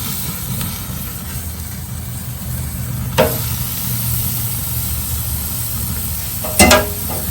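Filet mignon basted with cowboy butter sizzles on a grill in a steady, loud hiss under a low rumble, broken by two brief clattering spikes, with no talk.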